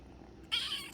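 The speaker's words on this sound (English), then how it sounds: "why are you meowing?" A pet cat gives a single short meow, close and fairly clear, rising suddenly out of a quiet indoor hum.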